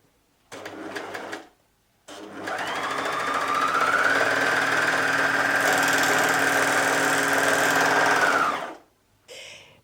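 A sewing machine stitches a torn sleeve seam at the armhole, running in a short burst, pausing, then whirring steadily for several seconds at close range before stopping.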